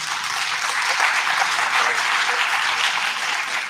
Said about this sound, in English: let's give a round of applause to Hubert